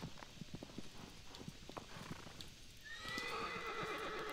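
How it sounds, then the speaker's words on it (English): Horse galloping in Shadow of the Colossus, rapid clip-clop hoofbeats on the ground, then a loud ringing whinny over the final second and a half. "Aggro sometimes runs like he's drunk, which is weird because he's a horse"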